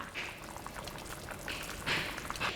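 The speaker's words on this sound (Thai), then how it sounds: "น้ำเดือดแล้ว" Water boils hard in a pot, a steady bubbling hiss that swells into louder surges now and then.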